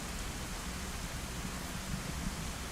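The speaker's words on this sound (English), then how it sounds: "the rain should be blocking our sound" Steady rain falls in the video game DayZ Livonia, a dense, even hiss of drops that holds at a constant level from start to finish with no breaks and no voices.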